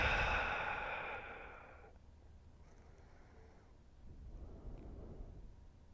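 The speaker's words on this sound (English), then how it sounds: "Take another deep awareness breath. And on the exhale," A slow, deep exhale during a guided yoga and meditation session for lower back and hip tension, a soft broad breath sound that fades over about two seconds, followed by quiet room tone and faint rustling.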